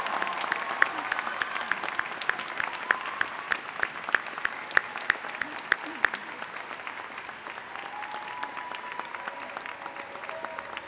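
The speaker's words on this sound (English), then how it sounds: "help me give them one more round of applause for a job well done" Sustained applause from a large audience at a college commencement ceremony, a steady dense patter of many hands clapping at moderate volume throughout, with a few sharper claps standing out.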